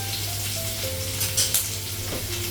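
Potatoes with panch phoron and green chilli fry in a home kitchen pan, producing a constant loud sizzle with occasional stirring scrapes and a faint tonal hum underneath.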